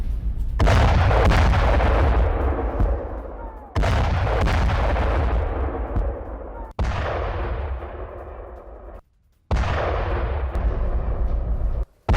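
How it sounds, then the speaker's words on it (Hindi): Air strike explosions in Lebanon in news footage, four huge booming blasts each followed by a long rumbling decay, loud and heavy, with a brief gap of silence between the last two. "लेबनान के जारमात में बड़ा एयर अटैक हुआ है"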